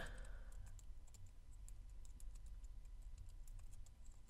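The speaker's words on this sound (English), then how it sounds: "I hate typing in this booth" Someone types on a computer keyboard in a small recording booth, producing faint, steady clicking keystrokes over a low background hum.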